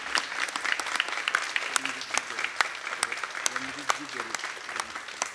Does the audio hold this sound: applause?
yes